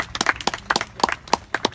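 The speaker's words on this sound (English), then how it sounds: "Give Langston a round of applause." A small audience at a Kwanzaa community gathering gives a round of applause, scattered uneven hand claps from several people nearby, moderately loud and short-lived, with no talk over it.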